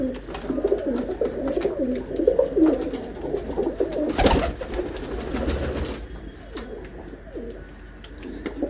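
Ferozpuri pigeons coo steadily nearby, a continuous low rolling burble with a few chirps and a brief wing rustle, fairly loud and with no talk.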